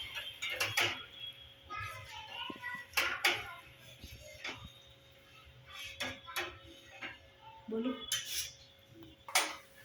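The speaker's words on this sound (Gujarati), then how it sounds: "હવે આ ગેસને આપણે ધીમા તાપે હલાવતા જઈશું" Kodri millet porridge stirred in a pot over a low flame, with spoon scrapes and clinks against the pot coming in irregular bursts, fairly close and moderately loud, under a steady low hum.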